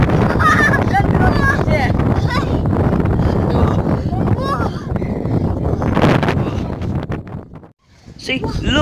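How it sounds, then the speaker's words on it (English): Very strong wind at a park with mountain views roars and buffets the microphone continuously, loud and close, with a person talking over much of it and a brief lull near the end. "Very strong wind."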